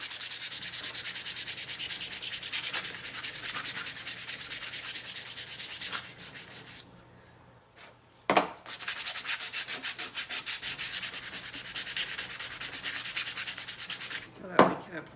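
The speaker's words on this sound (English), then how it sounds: "We're just going to sand this down a little bit and kind of rough it up." Hand sanding roughs up a surface in steady back-and-forth scratchy strokes, close and alone, with a short pause and a couple of knocks midway.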